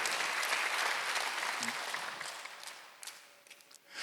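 A church congregation bursts into loud applause during a Sunday worship sermon, dense clapping from many people that holds strong, then thins and tapers toward the end.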